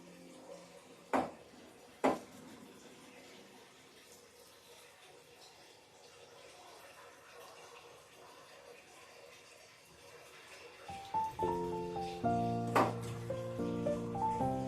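Water splashes and runs as homemade paneer curds are rinsed, with a couple of sharp knocks early, quiet sloshing, then a louder stretch of pouring water near the end, close and alone.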